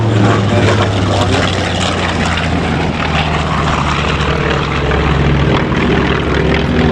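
A de Havilland Mosquito twin-engine aircraft flies at the Duxford air show, its propeller engines giving a loud, continuous throbbing roar that holds steady throughout.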